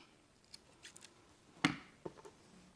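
Scissors snip yarn for a finger-knitted mouse craft: a single crisp cut stands out clearly, followed by a softer second snip, with faint handling rustles around it in a quiet room.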